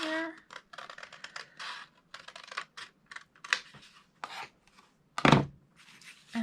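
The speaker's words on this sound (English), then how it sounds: "So, I'm going to snip this top off here." Scissors snip through grid paper in a series of close, crisp cuts, with rustling and handling of the paper between them and one sharper snap near the end.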